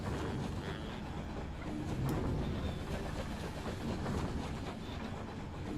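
A train rides along in the video game Night In The Woods, giving off a quiet, steady mechanical rumble with faint rhythmic clatter and no talking.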